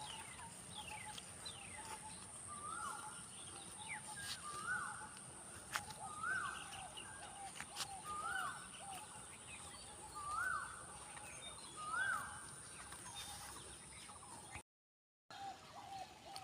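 Birds chirp and call repeatedly outdoors in a village, a series of similar rising calls recurring every second or so over a constant high insect-like drone and soft background ambience.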